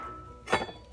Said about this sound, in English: take your cherry tomatoes and put them in